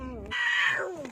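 A cat gives one short, close meow, a clear rising-then-falling cry about a second long.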